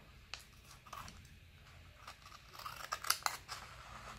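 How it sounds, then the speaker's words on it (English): Scissors snipping through a paper art journal page, a series of short, crisp cuts close by and fairly quiet, growing busier and sharper toward the end. "now I'm cutting the page"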